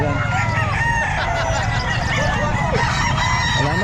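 Gamefowl roosters crow at a Calumpit pet market, several overlapping cock-a-doodle-doos and clucks rising over a dense, loud crowd murmur of nearby people talking.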